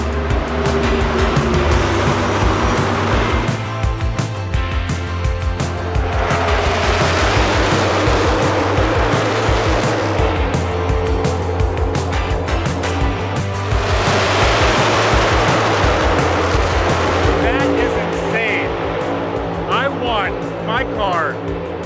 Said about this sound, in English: doing a parade lap right in front of like 40 stock cars